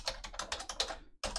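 Quick bursts of keystrokes on a computer keyboard, close and crisp, with a brief pause before the clicking resumes.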